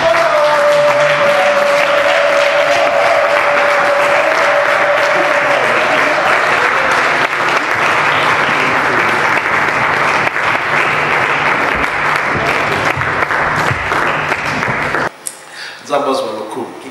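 A church congregation at a Lyon service claps and cheers loudly in acclaim of God, a steady dense wave of applause that continues before cutting off abruptly near the end, with voices rising within the crowd.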